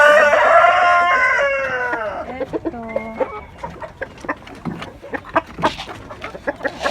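Chickens on a poultry farm at feeding time squawk and cackle loudly at first, then settle into a rapid run of short, close clucks and pecking sounds. A voice speaks briefly.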